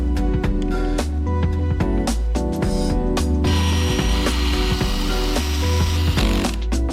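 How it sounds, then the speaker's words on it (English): Screws on a RUCKUS gear drive are tightened with a 4mm hex wrench, producing a close run of sharp ratcheting clicks and knocks, irregular in rhythm, with scraping and handling noises between turns. "Use the screws from the separate parts box to tighten the remaining holes on the front."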